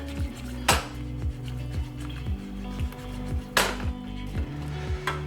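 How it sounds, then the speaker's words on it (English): A whisk beats bechamel sauce for mac and cheese in a pot, making a steady, rhythmic clatter of metal tapping the pot sides at about two strokes a second, with two louder knocks and no talk. "Wipe off my whisk that I dropped in my bechamel. Stir that up good."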